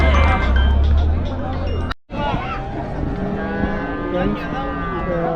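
Cattle mooing and lowing amid a busy crowd of chattering voices and general hubbub at a weekly livestock market in Namakkal, India, with animal calls rising over the noisy background.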